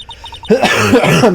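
A single harsh cough or throat-clear bursts out loud and close after a faint tonal pattern, during Phoenix Wright: Ace Attorney gameplay commentary.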